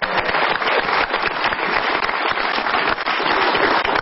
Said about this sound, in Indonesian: Tepuk tangan untuk Ibu Titu